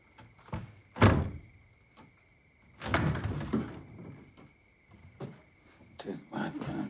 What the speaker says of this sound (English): Open the bathroom door.